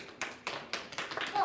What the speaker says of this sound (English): Let's give our expert on the writs of assistance a big round of applause, guys.